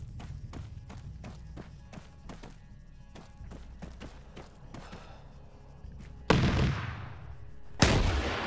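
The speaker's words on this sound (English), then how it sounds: "Command 1-2, small arms fire from the front." Small arms fire in a military video game cracks out as a steady series of distinct shots at an even rhythm, followed by two much louder, heavier blasts near the end.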